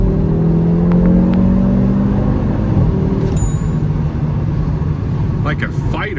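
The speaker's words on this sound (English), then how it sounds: "The turbo sounds." An Audi RS3 8Y turbocharged car engine roars and revs hard under steady road noise, a rising turbo whine layered over the drone, with a person speaking over it.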